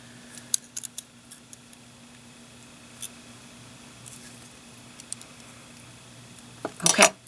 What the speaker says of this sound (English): And then just cut off what you don't need.